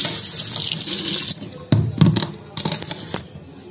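Raw prawns rinsed under running tap water in a home kitchen sink: a steady hiss of flowing water, then it cuts off and gives way to wet splashes, sloshing and scraping as the prawns are handled and drained.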